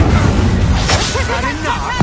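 A fire spell cast in Hogwarts Legacy, heard as a sudden whooshing burst that flares early and fades over steady game music, with a voice and effects running beneath.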